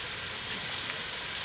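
Food fries steadily in a pan after garam masala is added while cooking saalan, giving a continuous dense sizzle with close, even crackle throughout.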